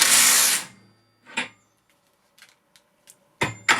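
A Makita 40V impact wrench on its lowest setting lets out a loud close burst, then falls quiet apart from scattered clicks and knocks, ending in another short sharp burst.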